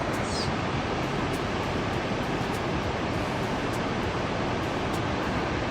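Rushing water from Thunderbird Falls pours in a dense, steady roar, loud and close, with no voices.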